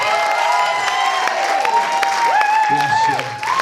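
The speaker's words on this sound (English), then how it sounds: "There you go, give him a big cheer." An awards ceremony audience at an equality and inclusion event in Luton applauds and cheers, clapping running steadily under whoops and loud excited voices near the microphone.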